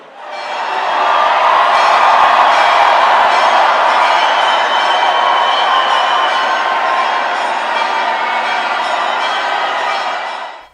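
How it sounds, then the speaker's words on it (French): Joyful crowd cheering and shouting at the Holy Fire ceremony in the Church of the Holy Sepulchre, Jerusalem: a dense, loud roar of many voices that swells quickly and holds steady for about ten seconds. "L'attente est rompue par l'exclamation joyeuse de la foule qui acclame la nouvelle descente du feu."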